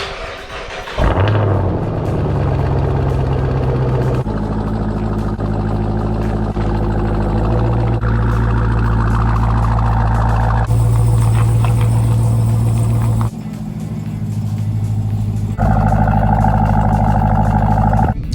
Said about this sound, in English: to get your Trackhawk sounding this good, all you're gonna need to do is cut out your mid suitcase muffler under your exhaust